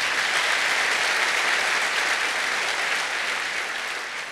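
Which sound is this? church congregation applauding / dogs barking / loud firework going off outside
church congregation applauding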